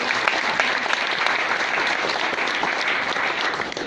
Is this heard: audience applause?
yes